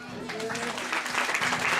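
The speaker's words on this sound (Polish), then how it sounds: "Brawa!" A crowd claps in a dense, sustained burst of applause, with a voice speaking over the clapping.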